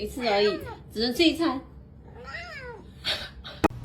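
A kitten meows several times, the calls loud and close with a rising then falling pitch, as people talk around it.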